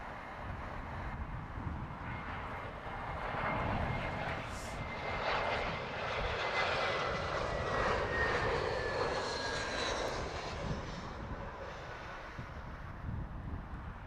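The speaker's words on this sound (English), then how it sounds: "It's an A320-200." British Airways Airbus A320-200 jet arriving at Heathrow from Dubrovnik, its engine roar swelling and holding steady overhead with a whining tone sliding through it, broadband and fairly loud with some wind buffeting.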